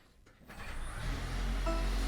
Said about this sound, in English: there's just a little bit of a delay after you press the stop start button before it actually starts